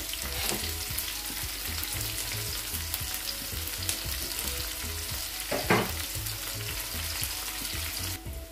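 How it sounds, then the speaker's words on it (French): Onions sizzle in a hot pan with a pinch of salt for a potato gratin, a steady frying crackle broken now and then by the scrape of stirring. "Et je vais blanchir mes oignons."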